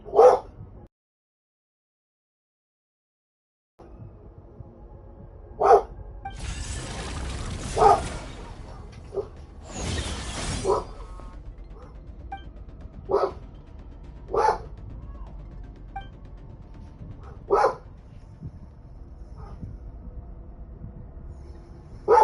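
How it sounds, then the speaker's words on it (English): A dog barks in short, loud, isolated yelps spaced a second or two apart over a long stretch, with a couple of brief noisy rustles between barks. "Sorry about the dog."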